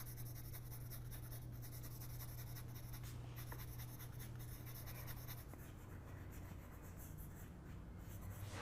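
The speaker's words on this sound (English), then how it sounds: "Grab my dark brown pencil and install some darks." A dark brown colored pencil strokes steadily across paper while drawing fur, close and quiet, a continuous fine scratching with a low hum underneath.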